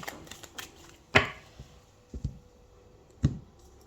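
Tarot cards being cut, a few crisp sharp card slaps and flicks spaced apart with soft shuffling rustle between, close and fairly quiet.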